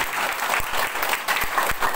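A church congregation at an open-air revival service in Amabi Oefeto Timur applauds, a loud, continuous and dense burst of many hands clapping close by, filling the whole moment without letup.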